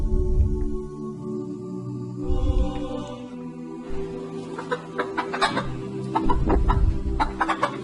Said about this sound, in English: Let's see this chicken now